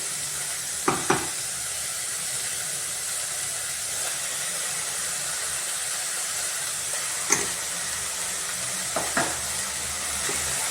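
Green chilli paste frying with beans and greens for khichdi makes a steady, close sizzle with faint hiss, broken by a few sharp clinks and scrapes of a spoon stirring the pan.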